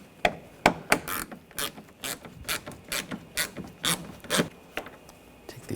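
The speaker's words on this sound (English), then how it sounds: "We're going to take these screws out. You're going to use a 8mm socket." An 8mm socket on a ratchet backs out bumper grille screws on a 2007-2013 BMW X5, giving a run of sharp, close clicking bursts in an irregular rhythm with no talk.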